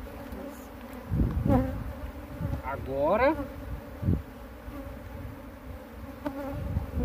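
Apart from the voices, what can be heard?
swarm of honeybees buzzing during hive transfer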